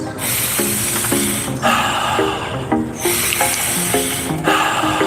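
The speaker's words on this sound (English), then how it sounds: "which is a powerful nose inhale and a sigh of relief out the mouth" Alkaline breathing, a breathwork pattern of a powerful inhale through the nose followed by a sighing exhale through the mouth, is heard up close as long, strong airy rushes repeating in cycles, with no voice over them.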